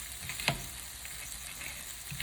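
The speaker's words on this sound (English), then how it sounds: "I'm gonna throw in some onion." Onion sizzles in a pan as a breakfast cooks, a quiet steady frying hiss close by, broken by two sharp clatters of stirring or utensil contact.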